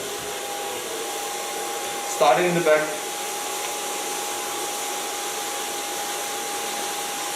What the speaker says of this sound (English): Put my blow dryer on volume, so it twists around.